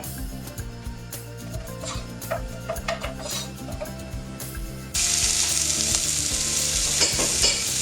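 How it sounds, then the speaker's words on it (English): Onions and leeks fry in a pan until caramelised and golden, a continuous sizzle under stirring and clattering utensils. The frying grows noticeably louder and brighter partway through, with no speech. "you put your onions and your leeks and you fry them off until they're sort of caramelised and golden brown"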